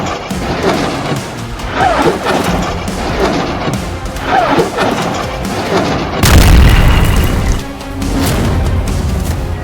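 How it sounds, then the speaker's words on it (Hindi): Heavy booming explosions from a Hezbollah rocket attack on Israel, repeated deep blasts and crashes rolling one after another, loud and close, with a larger burst near the end and no speech. "हिजबुल्लाह ने सैकड़ों रॉकेट से इजराइल पर भीषण हमला कर दिया है"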